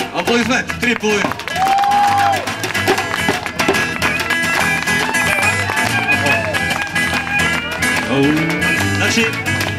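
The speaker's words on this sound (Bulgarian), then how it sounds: "Аплодисменти." An audience at a live show breaks into applause, with brisk, loud clapping and some cheering sustained across the stretch. Tonal music and voices run underneath.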